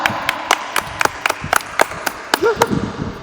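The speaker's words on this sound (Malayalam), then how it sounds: "അല്ലെങ്കിൽ നല്ലൊരു ക്ലാപ്പ്" A few people clap in sharp, uneven bursts at a quiz show, about a dozen claps spread over a few seconds, with a brief murmur of voice partway through.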